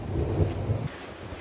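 Heavy rain pours down during a thunderstorm, with a low rumble of thunder in the first part, fairly close and steady, heard while sheltering under an awning by a garden pond.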